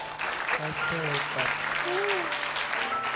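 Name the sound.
audience applause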